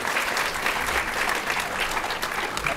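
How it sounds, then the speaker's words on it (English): Steady applause from an audience at a Q&A for the Merlin series 4, continuous, fairly full clapping of moderate loudness with no clear voices over it. "it's getting a round of applause from the back from somebody"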